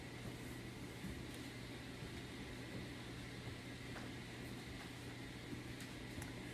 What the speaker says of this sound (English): if you hear kind of a humming sound,